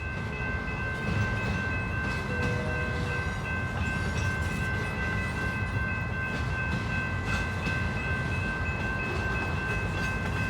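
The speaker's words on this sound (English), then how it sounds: "That beautiful sound of the train." A train rumbles steadily past close by, with continuous rolling noise and clattering wheels, and a sustained horn-like tone running through it.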